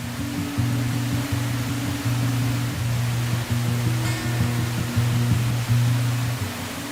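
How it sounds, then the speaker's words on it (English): Lower Fox Canyon Falls, a hidden waterfall in Fox Canyon within Big Tujunga Canyon, roars as a steady broadband rush of falling water throughout, loud and unbroken, with no voices. "Lower Fox Canyon Falls, or Lower Falls of the Fox, is an elusive and hidden waterfall within Fox Canyon."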